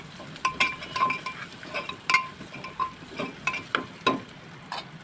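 Green chilies drop into oil in a pan of sprouted-legume sabzi, giving a low sizzle under soft clinks and scrapes of a spoon on metal. The stirring comes in irregular taps.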